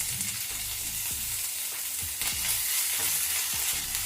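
Ginger garlic paste and onions frying in a pan for a vegetable korma, a steady close sizzle broken by repeated scraping stirs, with no one speaking.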